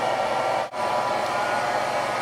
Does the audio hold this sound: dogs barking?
no